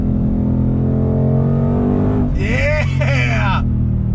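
A Ford Shelby GT350R Heritage Edition's engine drones at a steady roar, then a short burst of revs rises and falls in loud blips, with a voice sounding throughout.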